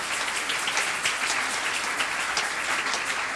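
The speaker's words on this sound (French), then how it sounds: "Je voudrais que nous acclamons fortement le Seigneur notre Dieu" A church congregation at a Kimbanguist Sunday service applauds loudly and continuously, dense clapping filling the room without a break.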